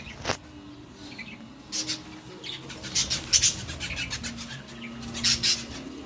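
Budgies, small Australian parakeets, in an aviary give scattered high chirps and brief bursts of wing flapping, fairly faint and intermittent, with no talking.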